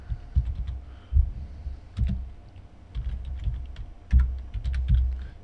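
A computer keyboard is typed on at close range in irregular clusters of clicking keystrokes with short gaps, entering a DNS entry, with no voice over it.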